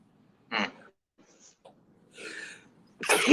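A single sharp sneeze bursts out near the start, followed by faint breathing and a rough exhale, then a louder throat-clearing or cough at the end; close, indoors, no talk.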